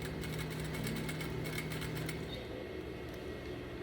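A sewing machine stitching a seam along a pressed half-inch line on a double welt pocket, a quiet, even mechanical whir with rapid rhythmic ticking that eases off toward the end.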